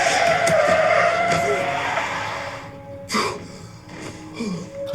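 In a film scene, a car brakes hard and its tires squeal in a long, loud skid that fades out, followed by a few sharper screeches and thumps.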